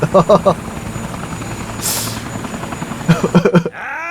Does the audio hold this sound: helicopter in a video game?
yes